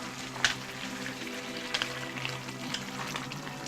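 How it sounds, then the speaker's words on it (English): A pot of Chai Choy mixed vegetables with bean curd bubbles and hisses steadily, with a few sharper pops and clinks standing out over the continuous simmering noise. "the dish has been boiling for another 10 minutes"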